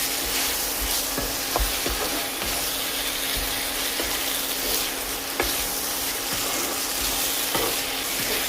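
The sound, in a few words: crushed chicken being stirred and fried in a pan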